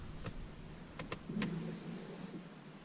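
Windshield wipers on a car driving up toward their raised service position after the engine is switched off, giving a few short motor whirs and clicks followed by a brief soft mechanical hum, close and fairly quiet.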